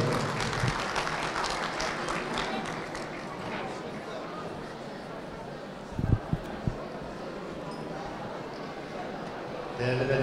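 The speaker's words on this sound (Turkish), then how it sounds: "Sincan Kaymakamımız Sayın Abdullah Küçüğü alkışlarınızla kürsüye davet ediyorum." Audience applause at an iftar gathering for healthcare workers in Sincan, welcoming the district governor to the podium; dense clapping fades slightly before a few louder thumps near the end, with speech likely mixed in.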